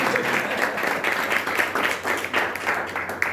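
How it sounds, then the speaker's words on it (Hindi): A church congregation at a Friday night service claps loudly for the preacher, a fairly strong, continuous patter of many hands with uneven surges throughout the short burst. "मेरे लिए जरा जोरदार तालियां बजाइए।"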